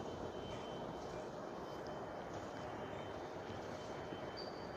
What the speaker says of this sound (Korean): 로마로 돌아가는 이제 지금 기차입니다